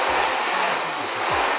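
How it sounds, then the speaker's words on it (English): A vacuum cleaner runs continuously, close and loud, as it sucks dust off a person. It is a steady broadband whine with no talk. "I just had to include this clip of Aaron, the time that he thought it was a good idea to vacuum the dust off him"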